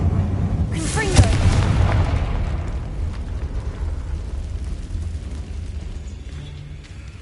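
A Confringo fire-blast spell from Hogwarts Legacy bursts with a loud booming explosion near the start, then a long rumbling decay fades over several seconds.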